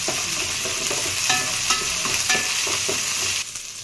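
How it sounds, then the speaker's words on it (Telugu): Ginger garlic paste sizzles steadily in a hot pan of oil while being stirred for a Uttarandhra-style fish curry, with a constant close frying hiss and occasional scraping stirs, no talk. "ఇప్పుడు అల్లం వెల్లుల్లి పేస్ట్ 1 స్పూన్ వేసుకుందామండి. ఇది మగ్గాలండి"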